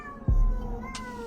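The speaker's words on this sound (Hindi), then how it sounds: "बाहर से किसी बिल्ली के रोने की भयानक आवाज सुनाई दे रही है" A cat cries out eerily outside at night, one loud, sudden yowl close by, followed by a faint drawn-out tone and a brief hiss-like burst.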